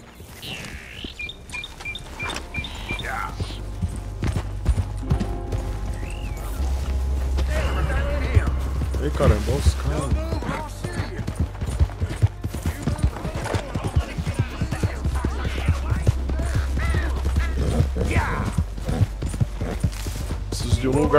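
A horse's hooves clip-clop and gallop in the Red Dead Redemption 2 video game, a steady rhythmic patter under game music, with someone talking over much of it.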